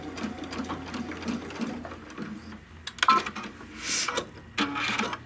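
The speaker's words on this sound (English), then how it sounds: "now we're just going to top stitch" A sewing machine top stitches a belt bag, a close, fast mechanical whirring that runs in short bursts with brief pauses and a few clicks and rustles.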